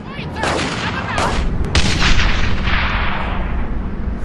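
Machine gun fire from Brothers in Arms: Hell's Highway arrives as loud, dense bursts of gunfire and blasts. The firing rolls on continuously with a battlefield rumble beneath it.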